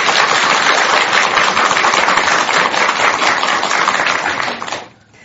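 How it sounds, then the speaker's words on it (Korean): A studio audience bursts into sustained, dense applause at a Buddhist broadcast talk show, loud and steady for about five seconds before quickly dying away. "큰 응원의 박수 한번"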